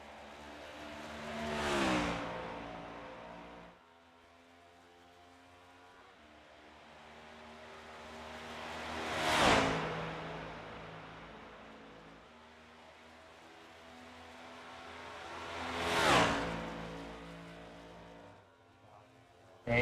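GFi AJAX One 250 karts buzz past on a race lap, three distinct pass-bys each swelling from faint to loud and fading again, with a steady engine drone between them.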